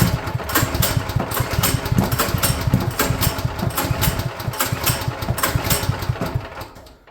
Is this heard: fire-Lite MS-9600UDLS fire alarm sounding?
no